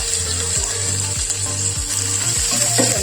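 A crushed spice mix fries in hot coconut oil for a green plantain stir-fry, giving a steady loud sizzle and hiss, with a rhythmic low clicking repeating beneath it.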